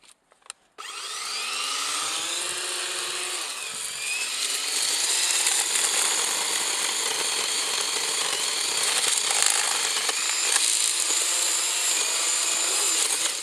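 Tree clearing with a chainsaw-like power tool, cutting through trees in a yard: a steady loud motor whine that runs continuously after a short start, rising slightly in pitch as the blade bites, with no talk.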